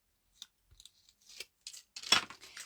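A strip of tape pulled and torn off while assembling a paper storage box for 6x6 designer paper: a few short crinkly snaps, then a louder ripping tear near the end, close and alone.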